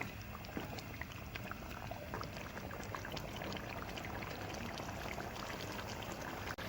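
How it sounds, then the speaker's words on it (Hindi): Chicken and potatoes for aloo gosht sizzle and fry in a pot, a dense, steady crackling hiss that runs without a break and with no voices over it. "इसको अच्छी तरह से हम भूनेंगे।"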